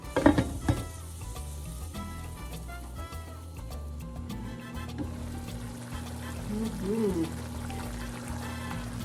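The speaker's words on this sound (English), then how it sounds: "we'll let it simmer for probably 10 minutes" Pinakbet, a Philippine dish of summer vegetables, simmering and sizzling in a pot, a steady close bubbling hiss with a few clanks and stirring knocks at the start, faint speech behind it.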